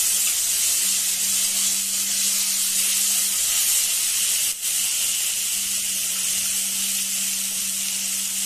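Carrots, capsicum and beans fry in a pan, giving a steady, loud sizzle and hiss that runs unbroken throughout.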